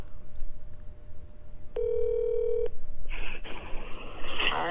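Telephone tones from an outgoing call: a short burst of dialing beeps, then a steady electronic ringing tone that goes on to the end, fairly close and clear with no speech over it.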